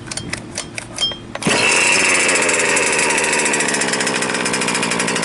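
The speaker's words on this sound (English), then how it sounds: "let's go rev it on up" A Losi 5ive B RC car's small gas engine, oil leaking on the chassis during heat cycles, sputters in a few uneven pops and then revs up into a loud, sustained high-pitched buzz held close.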